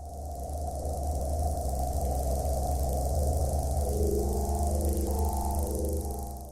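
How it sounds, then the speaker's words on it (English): An electronic oscillator driven by the electrical current of a living shiitake mushroom gives a steady, buzzing synthetic drone. Faint shifting tones ripple through it, and clearer stepped pitches emerge in the later seconds before it fades. "That is the sound of the shiitake mushroom growing."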